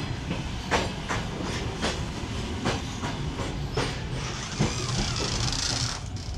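A passenger train rolls along rails in Uzbekistan, heard from inside a carriage: a continuous rumble with sharp rhythmic clicks of the wheels passing rail joints at an irregular pace.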